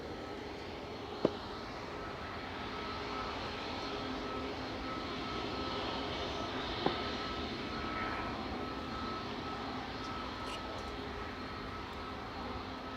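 Boeing 737 MAX 8-200 jet airliner, registration EI-IJO, recently delivered, heard at Manchester Airport as a steady, broad engine roar holding at moderate distance throughout, with two brief sharp clicks early and midway.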